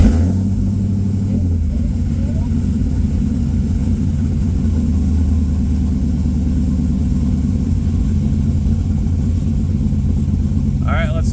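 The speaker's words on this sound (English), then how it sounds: "So now we will start up the car and see if we have any leaks" An F-body car fitted with a newly installed 2-quart Accusump fires up right at the start and settles into a steady, loud, low idle rumble that carries on unbroken for about eleven seconds.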